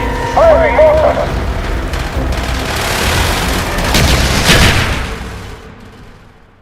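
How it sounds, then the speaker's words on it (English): Mortar fire in the Call of Duty Black Ops video game, heavy booms and rumbling blasts rolling over several seconds, loud and close amid scattered gunfire, with in-game voices calling out over it. "Firing mortar!"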